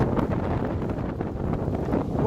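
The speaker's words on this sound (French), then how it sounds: "Il y a un vent de malade." Strong gusting wind buffets the microphone during an outdoor oil change in bad weather, a continuous low rumbling roar with uneven surges and no voices.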